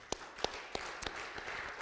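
A church congregation claps at a service, a sparse scattering of individual sharp claps spaced out over a quiet background, fairly faint and without talk.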